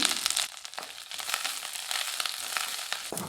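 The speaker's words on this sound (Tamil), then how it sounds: "கருவேப்பிலை சேர்த்து ஓரளவுக்கு நல்லா வதக்கியாச்சுங்க" Garlic cloves, dried red chillies and curry leaves with a little tamarind fry in hot oil, giving a close crackling sizzle with irregular pops and stirring scrapes throughout, no voices.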